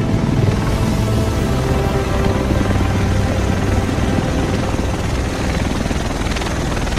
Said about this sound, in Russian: А, вот и вертолет.